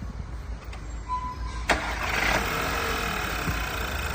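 A Volkswagen Tiguan engine cranks with a sharp click and catches, then settles into a steady close idle hum that carries on to the end, no talking.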